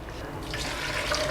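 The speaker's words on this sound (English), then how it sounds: "any soy milk you're getting right now, you're filtering, this will be poured into the pot" Filtered soy milk poured into a pot while making tofu at home, a steady liquid splash and trickle that builds slightly toward the end, close and fairly quiet, with no talking.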